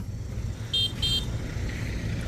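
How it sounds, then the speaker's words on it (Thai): Two short car horn toots in quick succession, clear over a low idling engine rumble, followed by quieter road noise, as the car gives way to another vehicle and a motorbike. "ส่งเสียงแตรเด้อเดี๋ยวให้รถนั้นไปก่อน"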